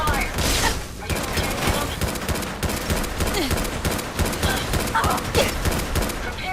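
Dense, continuous gunfire in The Mechanist, a video game, with rapid overlapping shots and automatic bursts filling the whole stretch at steady loudness, while a voice talks now and then over the barrage.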